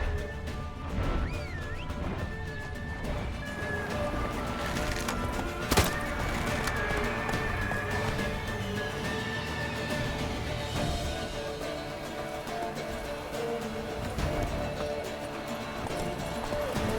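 Roach the horse gallops in The Witcher 3, a steady run of hoofbeats with occasional crashes and a brief sharp impact, all set within dense, busy game sound and music.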